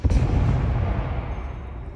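An explosion set off in the video game Hogwarts Legacy, a loud sudden boom at the start that rolls into a long rumbling decay, heard alone without talk.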